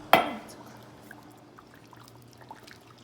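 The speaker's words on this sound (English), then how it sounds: "Now that the water's boiling, add a cup of the sugar." A cup of sugar is dumped into a pot of boiling water, making one sudden splashy pour at the start that fades quickly into a quiet simmering hiss.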